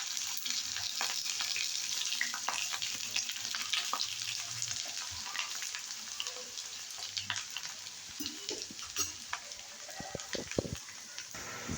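Potatoes frying in a pan for a meatless aloo dum, a dense crackling sizzle close by with stirring scrapes, fairly quiet but continuous, with a few louder utensil knocks near the end.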